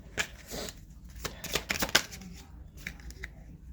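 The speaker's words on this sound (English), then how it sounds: "Keep dropping these daggone cards." Oracle cards being shuffled and dropped, a run of crisp papery riffles and slaps in short bursts close to the mic, with faint low background rumble.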